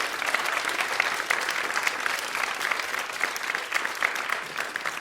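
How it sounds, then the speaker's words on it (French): Audience at a primary school (CE2) musical play about Greek gods applauds the narrator with steady, dense clapping that holds at an even level throughout, with no voices standing out. "applaudissez très fort Chloé"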